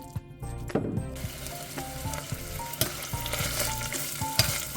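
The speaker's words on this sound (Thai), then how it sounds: "จากนั้นก็เอามาผัดกับน้ำมันพืชเล็กน้อยนะคะ พื่อให้หอมค่ะทุกคน ใส่เครื่องแกงไปหมดเลยนะคะ" Curry paste with fish stir-frying in a little vegetable oil, crackling and sizzling close up while a spatula scrapes and clatters against the pan in irregular strokes.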